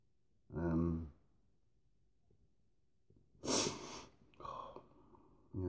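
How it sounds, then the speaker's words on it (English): A person sniffing and breathing through the nose, a few separate sharp nasal bursts close to the microphone with quiet gaps between them. "it's still coming back for some more of my old sniffing"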